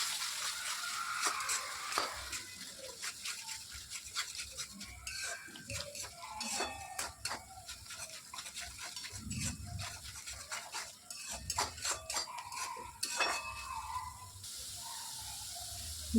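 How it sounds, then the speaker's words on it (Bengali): Fish curry masala with raisins and yogurt being stirred in a pan, with scraping and clinking of a spoon against the pan over a soft sizzle, no talking. "এরপর আমি কোচানো কিশমিশ আর 2 চামচ টক দই দিয়ে"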